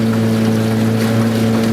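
Motorboat cruising on the Murray River at Robinvale toward the boat ramp at the end of a fishing day, its engine a steady loud drone with a strong hum and wash of wind and water, no talk.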